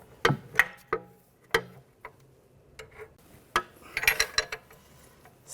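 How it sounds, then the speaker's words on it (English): A 21mm wrench and 10mm socket tighten a bolt on the rear upper control arm of a 2006-2010 BMW 550i, giving irregular sharp metallic clicks and ticks close by, with a quick cluster of rattling clicks near the end. "use a 21mm wrench and a 10mm socket. Just tighten this up."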